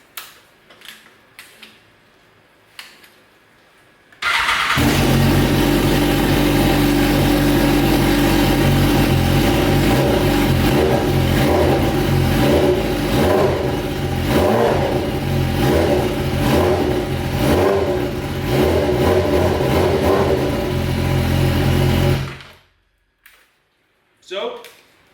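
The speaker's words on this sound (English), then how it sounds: "let's test fire it again" BMW S1000RR motorcycle engine, freshly reassembled after a wreck rebuild, fires up and runs loud and close for about eighteen seconds with repeated revving, then cuts off abruptly into quiet.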